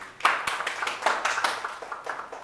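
A small audience at a Hindi film press conference claps, a scattered, moderately close patter of individual hands that swells and then thins out over a couple of seconds.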